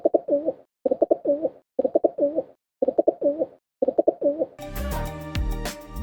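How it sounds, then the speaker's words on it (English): Five rhythmic bursts of soft, throaty pigeon cooing, close and clear with short pauses between them, then music takes over at the end. "A male pigeon woos a female by puffing up his chest, cooing loudly, and spinning in circles"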